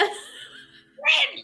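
A child sneezes, a short burst coming after a stretch of speech and laughter, close and clear amid casual conversation.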